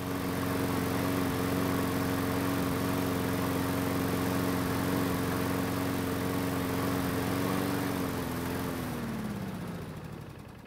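A Briggs flathead lawn mower engine runs steadily and loudly during a runtime test, then sputters and slows as it dies near the end.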